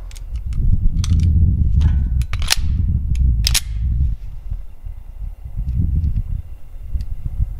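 Canik TP9 SFX pistol fires a short string of sharp reports, three spaced cracks standing out above a steady low rumble of wind or outdoor background, with no talk.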